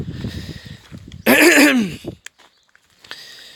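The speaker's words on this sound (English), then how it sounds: "Sorry, I always have to clear my throat out before all these." A loud, rough throat clearing bursts out after some low murmuring, then a few soft clicks and faint breaths follow.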